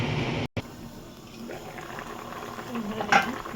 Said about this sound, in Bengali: ঝোলটা আমার ফুটে একদম টুকু হয়ে গেছে